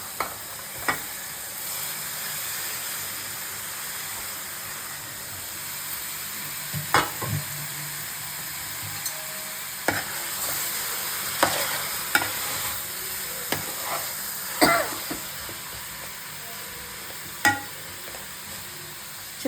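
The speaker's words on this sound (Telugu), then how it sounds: "ఇలా ఎర్రగా వేగినాక నేను కలిపి పెట్టుకున్న చేపల ముక్కలు వేసేసాను" Pieces of fish fry in a pan for Ongole-style fish pulusu, a continuous sizzle broken by intermittent scraping stirs and clanks of the utensil, close by and with no talking.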